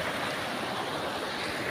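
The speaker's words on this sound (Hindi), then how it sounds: "आप देख सकते हो पानी बहुत तेज चल रहा है" Fast-flowing mountain stream rushing steadily, a dense, loud broadband roar of water heard up close with no break and no voices.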